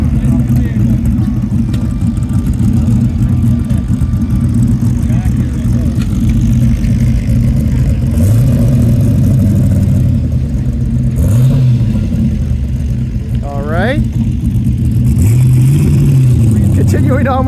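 A Pegaso classic car rolls in at a concours, its engine running with a steady low rumble and a few rising revs, under crowd chatter and nearby voices.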